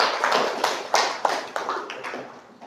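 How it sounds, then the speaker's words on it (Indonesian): Classroom audience clapping after a group's poster presentation in an Islamic religious education teacher-training session, a brief burst of scattered hand claps with sharp individual slaps that thin out and fade over a few seconds. "Ya, tepuk tangan, luar biasa presentasinya."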